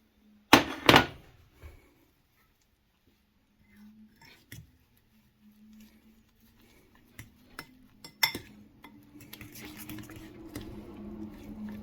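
Flaxseed meal and butter stirred together in a bowl for keto bread: a loud clink of utensil on dish, then sparse taps and scrapes that build into steady close scraping near the end.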